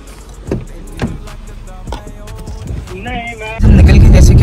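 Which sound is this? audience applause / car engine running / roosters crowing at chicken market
car engine running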